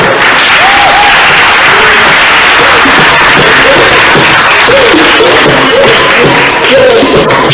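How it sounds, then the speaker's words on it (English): Loud, continuous applause from an audience at a Black History Month event, thick crowd clapping with faint voices beneath it. "A round of applause for Alex and Sunday"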